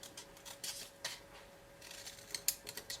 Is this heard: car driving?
no